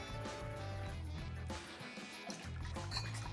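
Coconut milk trickles and drips into a glass for an absinthe cocktail, a soft, close liquid pour over a low background hum.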